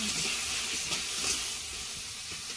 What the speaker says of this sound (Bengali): একটু রসুন তেলে দিয়ে শাক রান্না হবে।